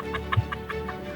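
Chicken clucking on an island village, with a few short rhythmic clucks spread over a second, fairly close and set against steady low background hum.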